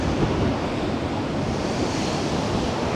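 Storm Amy batters Blackpool seafront with a steady, loud roar of surf and gusting wind, broadband and unbroken for the whole stretch, with wind buffeting the microphone and no voices.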